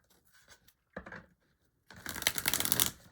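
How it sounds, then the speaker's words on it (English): Cards riffle and shuffle close by in a few short bursts, ending with a longer, louder fluttering shuffle. "We're going to get a few more shuffles."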